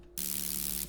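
Serum synth bass patch built from bright white noise through an amp on the rock preset and an EQ boosting the top end, a single short hissing burst with a steady low tonal hum underneath, alone.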